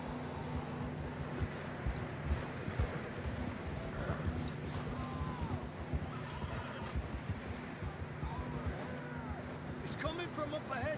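Horses clop and shuffle amid a busy background in Red Dead Redemption 2, with a few whinnies and neighs rising over the steady rumble and voices.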